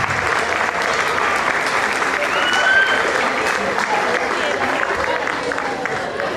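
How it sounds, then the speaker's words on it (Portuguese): A crowd at a school graduation ceremony applauds the teachers in sustained, dense clapping, with a faint voice and crowd murmur mixed into the steady roar. "Uma salva de palmas para as professoras."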